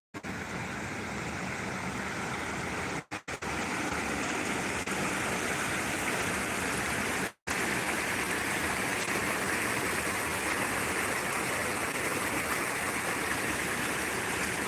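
Clear woodland stream water pouring over a ledge, a steady close rushing roar that fills the whole stretch, broken only by a couple of brief dropouts, with no voices.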